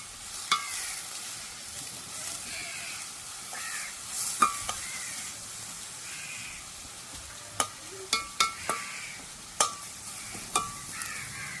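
Prawn curry ingredients sauté in a pan over a village wood stove with a soft, steady sizzle and stirring, faint cawing in the background, and a run of sharp clicks near the end.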